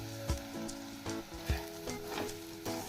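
Semolina frying in a pan with softened onion for upma, a quiet steady sizzle broken by several soft scraping stirs at irregular intervals.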